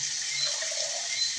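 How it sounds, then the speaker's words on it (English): Water poured into a cooking pot of Jamaican-style rice and peas, a steady close splashing hiss that runs without pause, with no talking over it. "So I'm gonna put a little more water in the pot."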